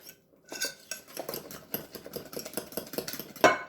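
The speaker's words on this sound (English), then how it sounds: "All right, we're going to mix this up." Spaghetti pie ingredients of cheese, meat, eggs and strained noodles mixed in a bowl, heard as close, quiet scraping and clinking of a utensil in a quick, irregular rhythm.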